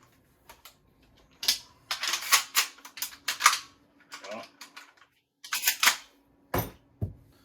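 Shotgun shells pushed four at a time into the magazine tube of a 940 JM Pro shotgun, giving close, sharp clicks and snaps in quick bursts separated by short pauses, ending with a couple of louder metallic clacks.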